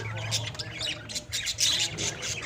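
Lovebirds squawk and chatter in a busy flock, harsh shrill calls overlapping continuously at close range.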